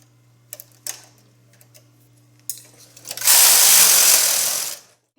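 A knitting machine carriage sweeping across the needle bed while knitting rows of a sweater, a sharp clack or two first, then one long loud rushing, whirring pass lasting about a second and a half, close by with no talk.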